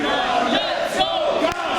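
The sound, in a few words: wrestling crowd cheering and rallying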